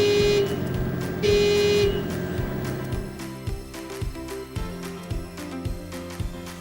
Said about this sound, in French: Testez le klaxon en appuyant sur le bouton haut du joystick de droite.